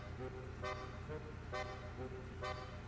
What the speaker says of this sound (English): I still like to stick with the classical horns.